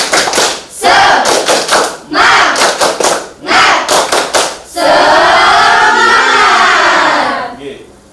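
A class of students performs a rhythmic clapping chant, bursts of loud unison hand claps followed by a long, loud group shout, close and energetic with crowd voices throughout.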